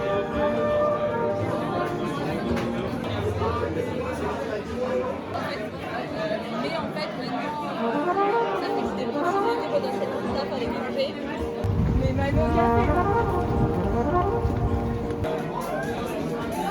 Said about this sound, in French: Il y a peut-être du bruit ambiant parce que je suis au café que j'aime bien